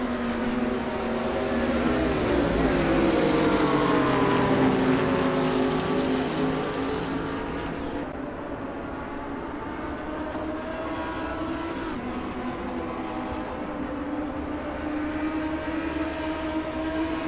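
Onboard a Ferrari GT3 race car lapping Silverstone in the video game Assetto Corsa, with a BMW close behind: a loud, continuous engine drone whose pitch climbs and falls through gear changes for the whole stretch.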